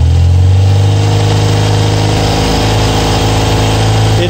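An engine revs and holds at raised RPM while its carburetors are synchronized, a loud, steady, close-up drone that barely wavers over a few seconds, with no speech.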